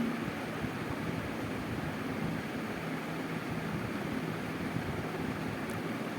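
Pangas fish goes into a boiling potato and tomato curry, heard as a continuous close bubbling and rushing simmer with no distinct splashes.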